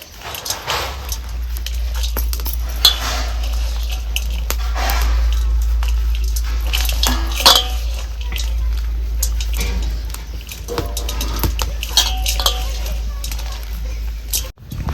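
Crumbly fried gram-flour sev is crushed by hand in a bowl for kaliche ladu, giving soft, close crunching and rustling crackles in irregular bursts over a low steady hum, with someone talking throughout.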